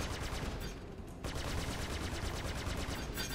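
A ship's repeater cannon in the video game Star Citizen fires in a continuous rapid stream of shots, dense and loud, with a brief dip before the barrage resumes.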